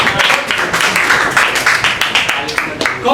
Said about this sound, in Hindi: मैं ताली तो बजाता हूँ।